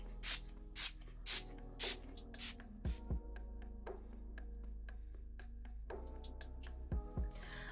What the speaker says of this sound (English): So we're gonna go ahead and use it to set this face in place.